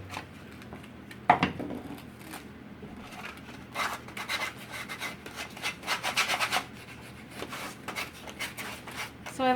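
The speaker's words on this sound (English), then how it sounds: "just gonna sand the sanding block" Sanding block rubbed back and forth over a small wooden pumpkin piece, a soft rasping scrape in irregular strokes, fairly close and quiet, with a sharper knock near the start.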